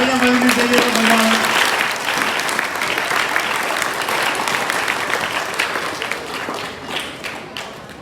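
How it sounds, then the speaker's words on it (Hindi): A crowd claps loudly and steadily at a motivational talk, the applause starting at full strength over a brief voice at the start, then slowly tapering off. "तालियां बजनी चाहिए तो भगवान।"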